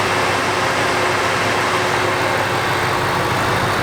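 Cooling fans on a 2007 Ford Shelby GT500 whir loudly and steadily at idle, a dense, constant rushing roar close by with no pauses.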